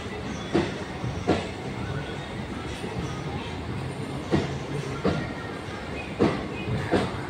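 A train from Dadar to Porbandar rolls along with a steady rumble, its wheels clacking over rail joints in a loose repeating rhythm.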